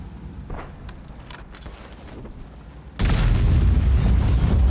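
Artillery shell exploding nearby in World of Tanks: quiet engine and rattling ambience, then a sudden heavy boom that holds as loud rumbling for the rest of the clip.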